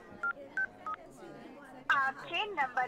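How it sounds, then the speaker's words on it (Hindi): Three quick dialing tones in a row, followed by a voice starting to speak right after. "मीरा ला फोन लगाया जाए।"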